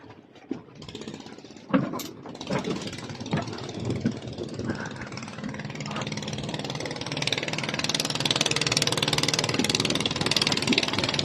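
A motorcycle engine runs on a road in a community on an island in Krabi, its drone building and holding steady and fairly close in the second half, with people talking at the start.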